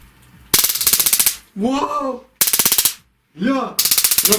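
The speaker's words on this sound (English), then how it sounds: "Let me zap you with a stun gun." Stun gun zapping against a person wrapped completely in foil: three loud, rapid crackling bursts of electric clicks, each about a second long, alternating with short bursts of speech.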